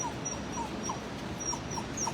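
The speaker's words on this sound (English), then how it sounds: "you're bigger than most dogs that wind up in these particular kennels" A dog whimpers in a shelter kennel, giving a string of short, high whines spread across about two seconds over a steady background hum, close and fairly clear.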